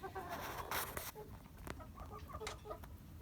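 A Leghorn hen sitting in its nest gives a series of soft, irregular clucks up close amid faint rustling in a farmyard coop.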